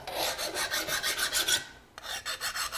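A hand file rasps in quick rhythmic strokes across hardened saw blade steel being made into a knife, each pass a bright gritty scrape, with a short pause before the strokes resume, close and fairly quiet with no voices.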